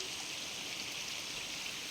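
Fresh spring water flows out of an earthen bund into a woodland puddle in the Konkan jungle, giving a steady, close, unbroken trickling rush with no voices.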